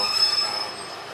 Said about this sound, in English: I just got on this train